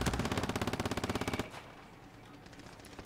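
Rapid automatic gunfire in Call of Duty: Warzone, a loud, even burst of about twenty shots lasting around a second and a half, then cut to quieter game ambience.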